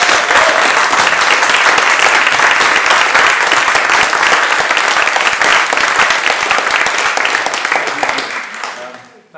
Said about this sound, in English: But give them a round of applause anyway.